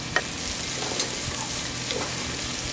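Shallots and curry leaves sauté in oil for a cauliflower kurma, a dense, even close-up sizzle with a few light stirring taps.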